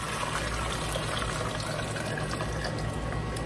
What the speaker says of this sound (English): pour it back into the bowl.